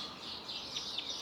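Birdsong drifts through a cottage garden in February, several high-pitched chirps and trills over a steady outdoor background at moderate distance, with nobody speaking.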